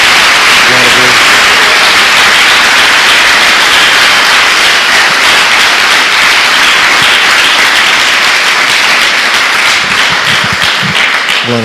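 A church congregation applauds steadily, dense loud clapping filling the whole stretch with a few voices rising faintly beneath it.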